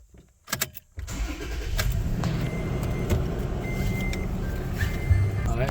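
A car with freshly replaced brake pads starts up in a garage and idles before pulling out, a steady close engine hum after the ignition with a few faint beeps and clicks.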